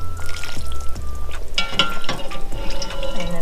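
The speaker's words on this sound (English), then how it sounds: "Alright, so I'm going to add some pasta in here." Dry pasta tumbling into a pot of homemade vegetable soup, a close run of pouring, clattering and splashing with a few sharper knocks as the pieces drop in.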